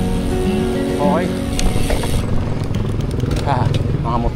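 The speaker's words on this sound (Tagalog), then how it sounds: "Mga motor din" Motorcycles pass along a city road in Cabanatuan City at dusk, engines droning steadily and swelling as they go by, with broadband traffic rumble throughout and a few bright horn-like chirps.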